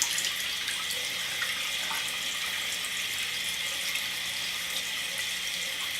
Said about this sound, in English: You'll know it's clean because the stream of water that drips off of it will be clear.